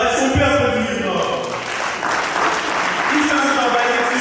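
An audience at a prize-giving ceremony claps in a dense, sustained round of applause, with a voice speaking over the clapping at the start and again near the end.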